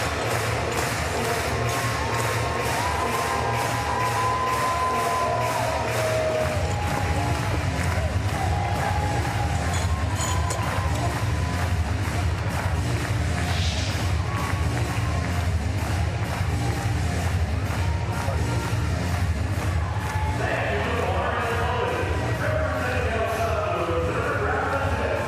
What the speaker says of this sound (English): I'm sure will be given a very warm ovation